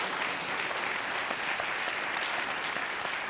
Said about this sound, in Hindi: इनके लिए हम एक बार तालियां बजाते हैं